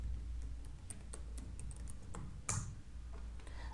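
Fingers tap out a short word on a computer keyboard, a quick run of light clicks over steady low hum, ending in a slightly louder keystroke.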